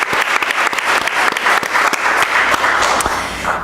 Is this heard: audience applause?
yes